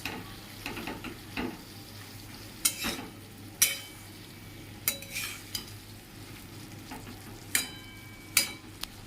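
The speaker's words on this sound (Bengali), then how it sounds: "এবার একটু হালকা করে নেড়ে চেড়ে নেব মাছটা।" Salted fish being gently stirred as it fries in a pan, a soft low sizzle broken by several sharp scraping clicks of the utensil, close and quiet with no voices.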